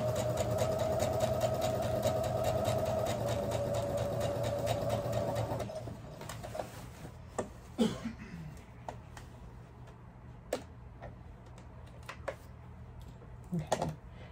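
A sewing machine runs steadily at basting length, its longest stitch, for about six seconds, then stops, leaving scattered clicks and fabric handling nearby.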